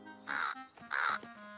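Two loud, harsh cartoon crow caws in quick succession, each a nasal squawk with a short pause between, from an animated Caillou episode, heard close and alone.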